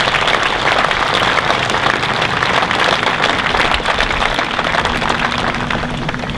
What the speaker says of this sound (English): So if we could give those folks a round of applause